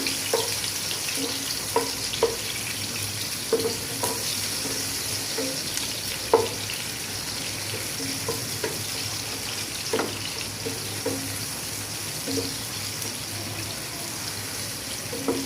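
Chopped onions sizzle in oil in a wok (kadai), a steady frying hiss with intermittent stirring clicks and scrapes, close and moderate in level.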